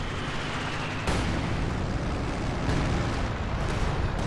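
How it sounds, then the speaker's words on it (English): A LEFH howitzer firing in a strategy game, heard as a heavy boom that leaves a broad rumbling roar under the continuous noise of the battle. "LEFH firing."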